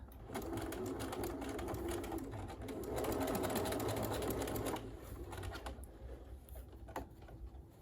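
A sewing machine runs a seam on a homemade fabric face mask, its fast, even motor whir and needle clatter continuing close up for the whole stretch, easing slightly near the end.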